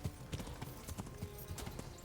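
Hooves of a grey dappled mare in Kingdom Come: Deliverance, a steady, even clip-clop of about eight beats at walking pace, fairly faint with a soft ambient bed beneath.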